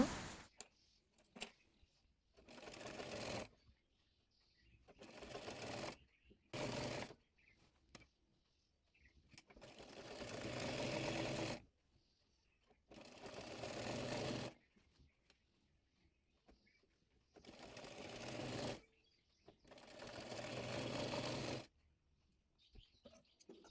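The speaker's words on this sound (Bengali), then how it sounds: "পর বডি পার্টের সঙ্গে এ হাতার কাপড়টি সেলাই করে নেব" Domestic sewing machine stitching a sleeve piece onto the body of an umbrella frock, running in several separate loud bursts of a few seconds each with quiet pauses between, close by.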